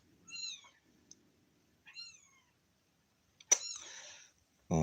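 Kittens meowing from a short distance away, a few thin, high mews separated by pauses, followed by a louder, rougher cry near the end.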